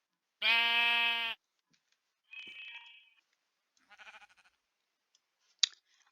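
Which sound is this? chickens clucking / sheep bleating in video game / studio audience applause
sheep bleating in video game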